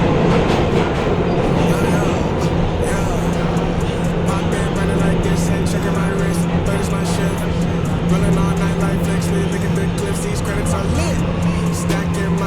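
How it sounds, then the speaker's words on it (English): A New York City subway F train rolls along, its steady loud rumble and wheel clatter filling the car, with faint brakes squealing and people talking in the background. "we're going right now, on the F train"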